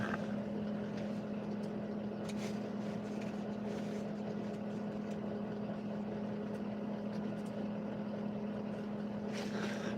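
The engine of the Cannabago motorhome, a vehicle not yet in running condition, idles in a steady, droning hum with a strong low tone, continuous and unbroken for the full ten seconds.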